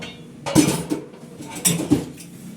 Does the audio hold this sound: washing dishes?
yes